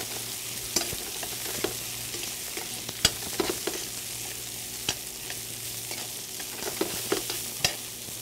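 Half an onion and garlic fry in a pan, a soft continuous sizzle punctuated by scattered crisp pops and utensil taps against the pan, close and without voices.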